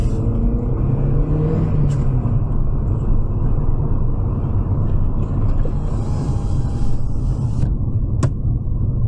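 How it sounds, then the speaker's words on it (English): A fifth-generation Volkswagen Polo pulls away, with a steady low engine and road rumble that stays loud and even throughout, a few faint ticks above it and no talking. "Okay, I would say let's start driving. And take off."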